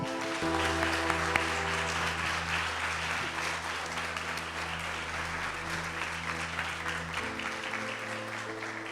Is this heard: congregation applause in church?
yes